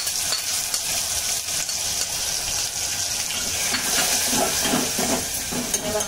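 Onion paste frying in ghee with whole spices over a gas flame, a loud, constant hissing sizzle with occasional stirring scrapes and wet bubbling, close up with no one talking.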